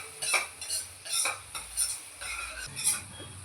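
Onions for a chicken curry are stirred in a pan with a spoon, producing rhythmic scraping strokes about every half second over a faint sizzle, close and without speech.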